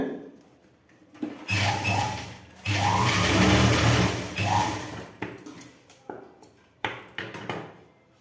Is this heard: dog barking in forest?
no